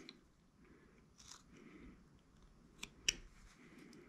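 A knife pressing a stop cut into wood while whittling, heard as faint scraping and a couple of sharp, close crunchy cracks near the end against a quiet background, with no talking.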